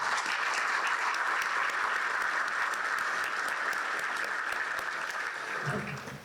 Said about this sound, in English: Let's give the Seminole Chamber and today's sponsors a big round of applause